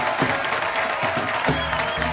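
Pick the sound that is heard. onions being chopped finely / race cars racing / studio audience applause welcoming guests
studio audience applause welcoming guests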